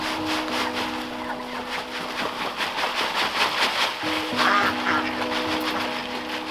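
Flock of farm ducks quacking excitedly as feed drops into automatic feeders, a busy, overlapping chorus of repeated calls under a steady mechanical hum, moderately close.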